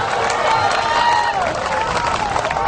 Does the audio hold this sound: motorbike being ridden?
no